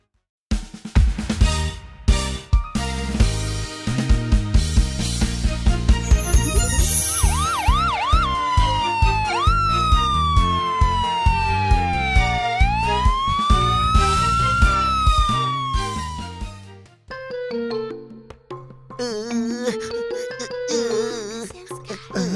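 Cartoon police car, fire truck and ambulance sirens wail in loud, sweeping rising and falling tones over bouncy music, then fade and give way to music alone near the end.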